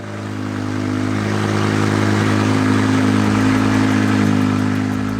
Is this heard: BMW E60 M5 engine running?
yes